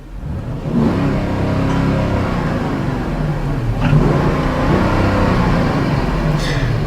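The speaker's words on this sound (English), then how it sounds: "Well, let's just get another exhaust clip because it is pretty addicting." A 2012 Porsche Cayenne GTS V8 with black wheels revs hard through its exhaust, a loud, steady roar that swells again near the middle of the clip, heard up close with no talking.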